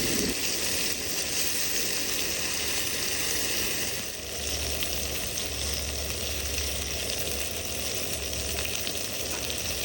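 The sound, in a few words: chicken strips frying in antique cast iron pan over open flame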